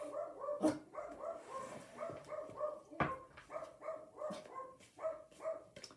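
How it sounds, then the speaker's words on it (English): A dog barks repeatedly in quick bursts, some yips mixed in, fairly close and steady across the whole stretch. "What's Boogie barking at, Barn Barn?"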